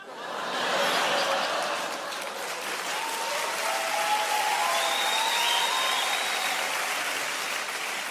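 Sustained applause from a comedy-show audience fills the room, steady and loud, rising quickly and holding without talk on top.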